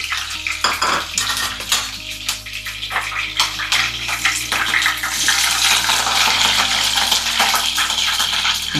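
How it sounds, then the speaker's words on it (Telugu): Slit green chillies dropped into hot oil for a gongura chicken curry: a loud, close, crackling sizzle with scattered pops, mixed with the clatter of utensils against the pan and no voices. "బాగా చిట్టపట్టలాడుతుందిగా"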